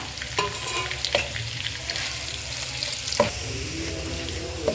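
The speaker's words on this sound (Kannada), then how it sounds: "ಈರುಳ್ಳಿ ಇದು ಪೂರ್ತಿ ಬ್ರೌನ್ ಆಗೋ ತನಕನೂ ಹುರಿಬೇಕು ನಾವು ಎಣ್ಣೆ ಒಳಗೆ" Thinly sliced onions fry in oil over high heat until brown, for a chicken keema pulao. A close, continuous sizzle carries sharp, periodic clacks of a spatula stirring the pan, with no voices.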